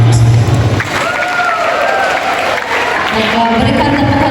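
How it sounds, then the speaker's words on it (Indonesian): Applause from a church congregation at a Sunday morning worship service, a broad steady wash of clapping that fills the whole stretch, with a low tone at the start and voices mixed in. "Berikan tepukan yang gemuruh sekali lagi atas ucapan sebentar tadi"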